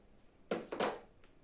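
Two short swishing strokes of someone rubbing writing off a board during a maths lesson, close and fairly soft, then quiet.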